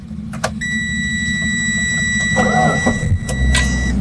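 A 2010 Chery QQ GX 1.1 manual car is started with the key: steady dashboard chime tones sound, then the starter cranks briefly and the engine catches into a close, low idle.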